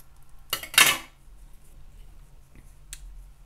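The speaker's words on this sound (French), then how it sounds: "Et couper mon fil" Scissors cut sewing thread up close with a sharp snip and a brief metallic swish. One faint small click follows a moment later. There is no talking.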